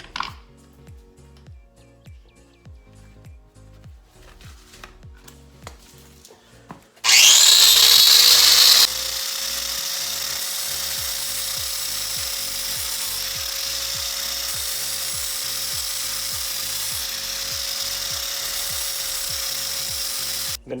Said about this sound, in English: So I'm using this grinder with a 60 grit flat disc on it.